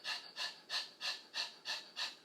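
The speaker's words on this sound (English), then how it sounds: "It's called, it's like a dog, so you're panting like a dog. So we're just going to stick the tongue out and then pant." Rapid rhythmic panting with the tongue out, done as a dog-like breathwork exercise: seven even, breathy pulses about three per second, close and soft, with no talking.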